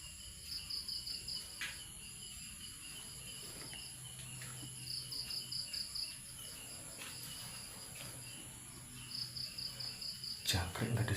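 Crickets chirp in quick repeated pulses against a quiet night background at a campsite, fairly faint, with a brief thump near the end.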